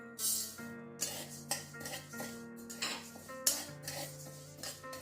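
Urad dal goes into a dry pan for roasting, making continuous scraping and rattling, with a spoon rubbing and stirring against the metal. The sound is moderate and close, with no voices.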